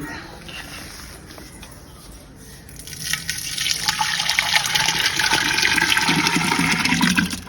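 Water poured into a pot while making cashew wine: a quiet stretch, then a loud, sustained splashing gush that builds and continues to the end, close by, with voices talking underneath.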